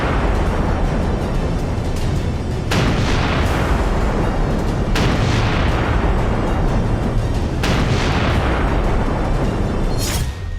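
Explosions and artillery fire from strikes in Gaza boom repeatedly, each sharp blast at roughly two to three second intervals followed by a rolling rumble, loud and close over a constant noisy background.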